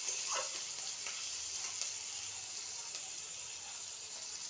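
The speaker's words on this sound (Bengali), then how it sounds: "পেঁয়াজের মধ্যে দিয়ে দিলাম একটু নুন, সবগুলো দিয়ে দিলাম। আমি এবারে লাল করে ভেজে নেব এটা।" Salted onions frying in a pan give a continuous, even hiss of sizzling oil throughout, fairly quiet, with a few faint stirring scrapes and no voices.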